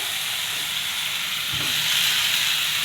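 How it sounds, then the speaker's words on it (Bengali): Boiled potatoes and pointed gourd being stirred together with rice in a hot pan, giving a steady loud sizzling hiss with a soft stirring scrape. "ভাতগুলো সব দিয়ে দিলাম এবার ভাতগুলো ভালো মতো মিশিয়ে নিব"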